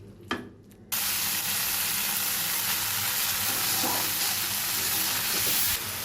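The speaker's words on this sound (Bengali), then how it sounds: "আলু আর মাছটা একসাথে কষানোর পরে আমি কেটে রাখা কচুরলতিটা দিয়ে" Potatoes and shrimp sauté in a pan, a dense hissing sizzle that jumps in abruptly after a short quieter stir and holds steady to the end, no talking.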